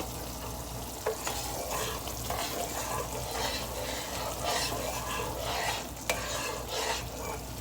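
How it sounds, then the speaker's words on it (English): Caramel is stirred in a pot on a stovetop over lower heat, a steady scraping and sizzling bubble running without break, with a couple of sharp clicks of the utensil against the pot. "Now we're going to stir this in."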